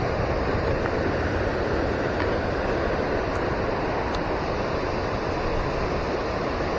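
The Batang Lurah river runs through Lembah Anai in a steady, continuous rushing wash of flowing water, loud and unbroken throughout with no voices.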